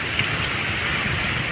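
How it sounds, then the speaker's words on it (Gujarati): Heavy rain driven by strong wind during a storm over farm fields, a loud, steady, unbroken roar with no talking. "વાવડા સાથે વરસાદ આવ્યો મિત્રો જો"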